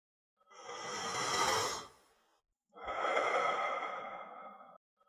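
Deep, forceful breaths during a Wim Hof-style breathing exercise: a long, loud airy inhale followed after a short pause by a long exhale, close and clear with no talking.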